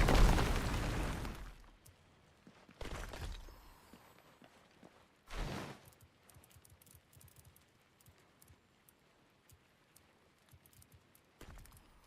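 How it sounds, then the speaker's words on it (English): A rock explosion spell in RuneScape Dragonwilds, a loud burst that decays over about a second and a half, followed by two shorter bursts and faint scattered rubble-like clatter in between. "here's a rock explosion"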